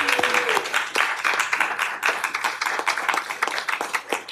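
A round of applause at an Augusta committee meeting, moderately loud clapping from a small room of attendees, steady with uneven individual claps, a brief voice heard near the start.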